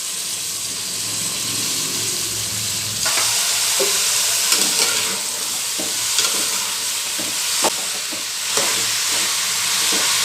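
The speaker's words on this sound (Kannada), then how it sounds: "ಈಗ ತರಕಾರಿಗಳು ಸೇರಿಸ್ತೀನಿ ಈರುಳ್ಳಿ ಕ್ಯಾರೆಟು ಟಮಾಟೊ ಮೆಣಸಿನ್ಕಾಯಿ ಮತ್ತು ಸೀಮೆ ಬದನೆಕಾಯಿ" Onion, carrot, tomato, chilli and chayote frying together for a chana dal vegetable kootu, a loud steady sizzle that swells after a few seconds, with intermittent clicks and scrapes of stirring.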